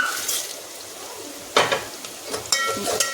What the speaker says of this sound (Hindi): ये देखिए तेल गरम हो गया, इसमें पहले प्याज डाल देंगे।